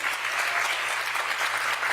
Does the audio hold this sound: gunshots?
no